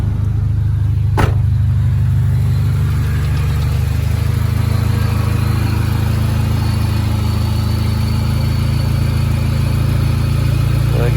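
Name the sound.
1995 Honda Civic A/C compressor running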